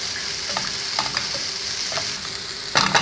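Chicken mince with finely chopped carrots and peas sizzling in a pan on low heat, a close steady fry with a few stirring scrapes and a louder burst near the end.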